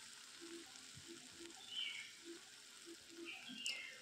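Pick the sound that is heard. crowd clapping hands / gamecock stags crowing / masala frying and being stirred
masala frying and being stirred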